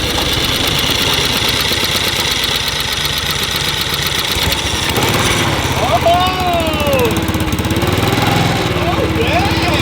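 A go kart engine with an electric starter cranks and catches, then settles into a loud, close, rapid chugging idle with a rough knocking rhythm, while people talk over it.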